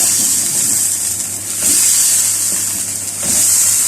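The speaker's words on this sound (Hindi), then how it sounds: "अब हम इसमें पानी ऐड करेंगे।" Water poured into a pot of frying mutton karahi, a loud close sizzle and hiss that swells in waves as it hits the hot meat, no talking.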